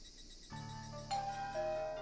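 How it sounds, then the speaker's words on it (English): A doorbell ringing in the visual novel Higurashi When They Cry, a chime of sustained tones entering after a quiet start with a second higher chime following, clear and alone. "When Rina rang the doorbell, it echoed inside the house."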